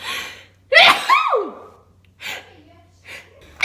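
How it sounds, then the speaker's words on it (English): A person sneezes once, a sharp gasping intake followed by a burst of expelled breath, close and loud, then a couple of softer sniffs or breaths. "Oh, I gotta sneeze."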